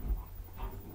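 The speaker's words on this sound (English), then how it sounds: "my dogs are crazy, like, I have Dobermans" Doberman dogs whimpering and panting close by, a short restless burst of soft canine noise with no talk over it.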